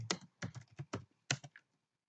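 Keys tapped on a computer keyboard while entering text into an Excel spreadsheet: about seven crisp, close clicks in uneven bursts, then quiet.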